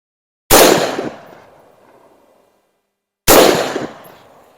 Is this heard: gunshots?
yes